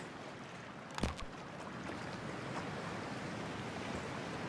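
A body plunges into freezing, toxic water in Cyberpunk 2077: one sharp splash that quickly gives way to a steady wash of moving water and soft underwater ambience.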